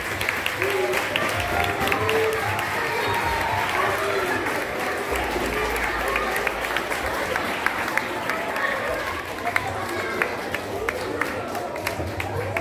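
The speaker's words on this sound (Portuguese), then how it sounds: "Palmas para ele." An audience at a school lecture gives steady, dense applause welcoming a doctor to speak, a continuous wash of many hands clapping with scattered sharper claps, sustained for the whole stretch.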